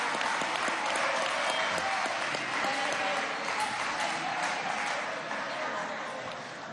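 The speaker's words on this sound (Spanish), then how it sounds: "Un aplauso para los Tigres de Aragua" A congress plenary audience gives sustained, dense applause that fills the space for several seconds and tapers slightly toward the end, with voices faintly mixed in.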